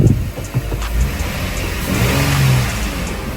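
A Lexus IS engine running just after starting, a steady mid-pitched hum with a slight swell in revs, heard close with no talking.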